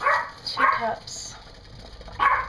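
A dog barks a few times in short bursts with pauses between, moderately close, in an otherwise quiet room.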